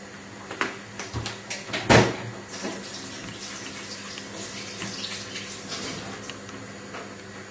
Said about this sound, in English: now you can go and wash your hands